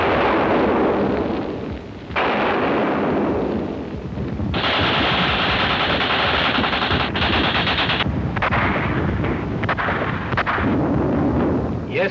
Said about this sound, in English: But the sound of cannon interrupts the work.